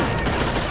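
Covering gunfire in the PS2 game Call of Duty: World at War – Final Fronts, a dense, continuous burst of overlapping rifle and machine-gun shots, loud and close, with no pause.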